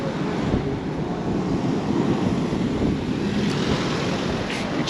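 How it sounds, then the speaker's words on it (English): Strong wind sweeps along the seafront at Palmanova, Mallorca, a continuous loud roar with gusty buffeting against the microphone and a faint wash of surf beneath, with no talking. "it's very windy now"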